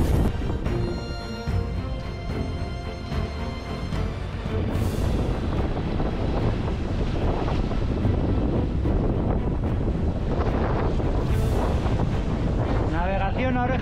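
Strong wind roars across the microphone while a sailboat pushes through two-to-three-metre sea waves off the Sisargas islands in Galicia, with loud continuous buffeting and rushing water heard alone and no voices.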